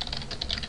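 Quick, light keystrokes clatter on a computer keyboard, a close, fairly quiet burst of several taps in an uneven rhythm with no voice over them.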